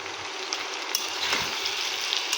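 Turmeric, red chili powder and cumin-coriander powder sizzle in a hot pan, a steady broadband hiss with a few faint scraping clicks as the spices are stirred.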